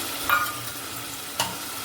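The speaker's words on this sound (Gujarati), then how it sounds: "ટમેટું એડ કરીને પછી ટમેટાને પણ ચડવા દઈશું થોડુંક" Steady hissing sizzle of chopped tomato frying in hot oil with fried onions, close and continuous, with a couple of brief stirring scrapes.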